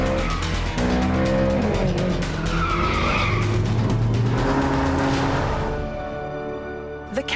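A Ferrari California skids on a slippery road, its tires squealing loudly and continuously over a strong engine roar, the squeal wavering in pitch before fading near the end.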